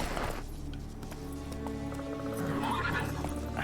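Roach, Geralt's horse in The Witcher 3, gives a close whinny over soft hoof clops and ambient game sound, with no one talking.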